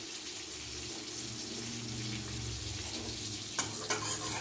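Chopped garlic, ten cloves, frying in a pan with butter gives a steady broadband sizzle throughout, with a couple of brief louder crackles near the end and no talk.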